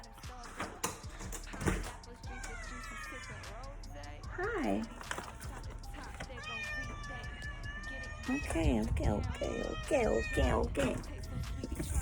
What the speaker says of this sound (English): People done left this baby cat, and now I'll be feeding her because she's my baby now.